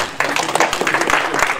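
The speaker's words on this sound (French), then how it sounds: "Monsieur Baka Daniel, un élément important qu'on applaudit s'il vous plaît." A short burst of audience applause at a PDCI RDA party gathering in Paris, a crowd clapping together fairly close and loud for under two seconds.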